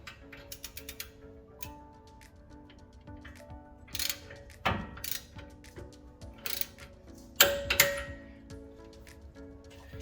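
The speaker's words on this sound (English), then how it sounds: "Tighten those castle nuts on the knuckle here to 70 foot-pounds" Castle nuts on a Jeep steering knuckle are tightened during a ball joint install, with close, clicking ratchet sounds and scattered metallic clanks and taps coming in short, uneven bursts.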